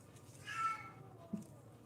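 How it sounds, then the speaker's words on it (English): A house cat mid-zoomies gives a single faint meow, with a second short, soft vocal chirp a moment later, close by in a quiet room. "you're gonna hear some crazy meows and stuff"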